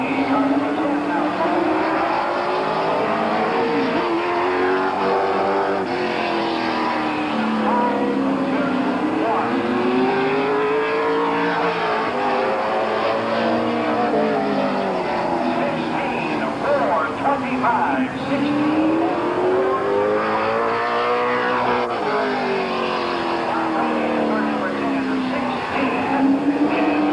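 Race cars lap Canton Motor Speedway in 1988, their loud engines rising and falling in repeated sweeps as they pass, with a voice faintly underneath.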